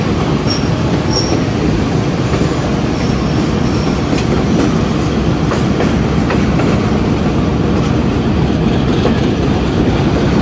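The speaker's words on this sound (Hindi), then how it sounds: "रात को 10:40 पे थाल एक्सप्रेस पहुंच चुकी है रावलपिंडी रेलवे स्टेशन पर 10 मिनट डिले के साथ" The Thal Express rolls into Rawalpindi railway station at night with a loud, continuous rumble of wheels on rails, occasional squeals and clicks, close and steady throughout.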